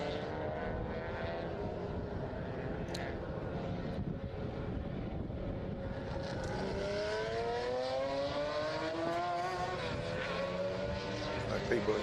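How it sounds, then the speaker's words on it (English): Classic racing cars accelerating away along the Estoril circuit, a steady blend of engines whose rising pitch sweeps upward as the pack pulls off, heard at middle distance over constant crowd and track ambience. "People accelerating away."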